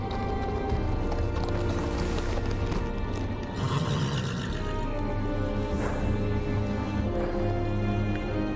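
Horse hooves galloping in a Game of Thrones video game, a rapid rhythmic pounding heard under a sustained musical score with a low drone throughout.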